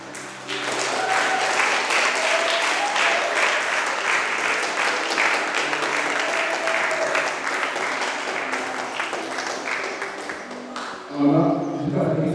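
A church congregation claps and cheers in sustained, loud applause acclaiming the Lord, filling the room for most of the time before it breaks off near the end into a brief voice.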